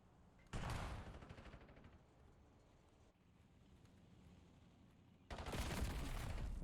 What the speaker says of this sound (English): Smay, pistol kills are coming through